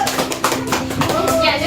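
A classroom of students claps for a group in quick, scattered bursts of applause, close and fairly loud, with children's voices mixed in.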